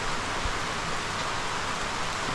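A sudden heavy downpour of rain hisses steadily and evenly throughout, a dense broadband wash with no pauses and no voices.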